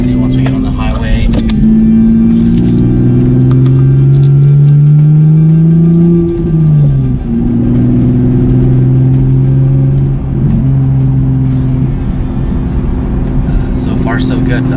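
A 2016–2018 Camaro V6 with a cold air intake installed drones close and loud from the cabin while driving, its engine pitch rising and shifting through gears, and someone talks over it throughout.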